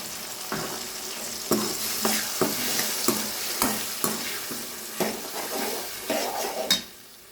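Ground tomato paste frying in a pan for a bitter gourd tamarind kuzhambu, with a continuous sizzle and a series of close, rhythmic stirring scrapes, no voices.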